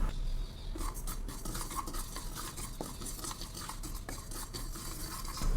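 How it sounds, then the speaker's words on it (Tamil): Sesame seeds dry-roasting in a hot kadai for healthy laddu, stirred with a spoon that scrapes and rustles steadily close by, with faint crackling underneath. "இதில் நல்லா வறுத்து எடுத்துக்கலாம்."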